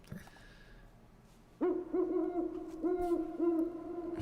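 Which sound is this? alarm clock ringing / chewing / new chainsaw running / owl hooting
owl hooting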